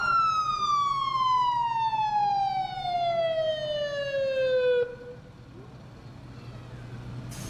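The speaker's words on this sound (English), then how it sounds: "the kids love it when the sirens go off." A fire truck siren wails at a small-town scarecrow parade, one loud, close descending tone sweeping downward for about five seconds before cutting off, leaving quieter street ambience.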